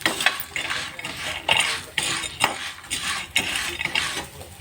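Whole spices for garam masala being dry-roasted and stirred in a pan, with repeated scraping and rattling strokes of a utensil against the metal, close and fairly loud, in an uneven rhythm across the clip.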